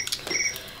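Short, clear cricket chirps sound close and alone, with a few quick pulses and no talking.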